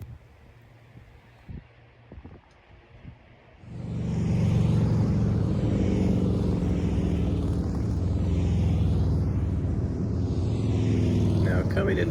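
A motorcycle rolls into Elk Prairie Campground in the California redwoods, faint at first, then its engine drone swells and holds loud and steady, with wind buffeting over it.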